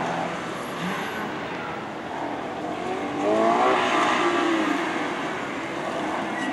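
A drift race car at a JAF Cup event at Shin-Chitose starting its run, engine revving up and rising in pitch at mid-distance amid ambient circuit noise, with a commentator talking over it.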